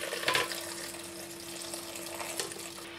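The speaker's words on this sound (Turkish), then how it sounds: "Soğuyan vişnemi şöyle güzelce süzüyorum." Cooled sour cherry juice drains and trickles through a strainer, a steady wet splashing with a brighter pour near the start and another near the end, close and alone.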